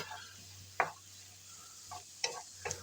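Onions and mushrooms cooking in a dry pan for beef stroganoff, with a few sharp spatula scrapes and taps over a faint hiss, close by and sparse.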